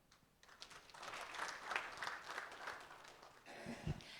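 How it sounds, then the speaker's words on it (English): An audience at a stakeholder forum on financial access claps in a steady, fairly faint round of applause lasting a few seconds, then it tapers into a few scattered claps. "Let's give him another round of applause."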